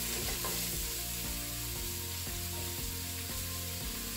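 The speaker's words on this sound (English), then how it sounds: "Now we want to give this a stir to coat all of the mix" Red peppers sizzling in hot oil while being stirred, with an even, continuous fry broken by regular scraping strokes of the spoon, close and alone without talk.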